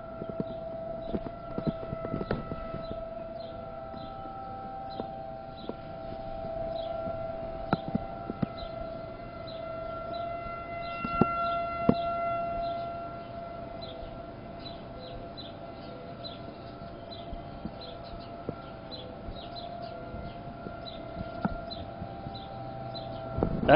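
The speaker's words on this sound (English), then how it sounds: "Hear the siren? Just while I'm recording." Outdoor warning siren drones faintly in the distance, a steady sustained tone held throughout beneath scattered nearby clicks and bumps.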